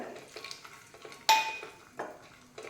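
Cashews with whole garam masala, cinnamon and cloves fry in oil, giving a soft sizzle under clinks and scrapes of a spoon against the pan, with one sharp metallic clang.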